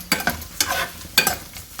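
Edible gum (gond) frying in hot oil and puffing up, with bursts of crackling sizzle and stirring at a close, moderate level, no talk.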